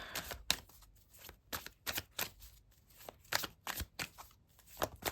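Tarot cards shuffled and drawn by hand, quiet close riffling bursts and soft flicks arriving in irregular clusters with short pauses between them.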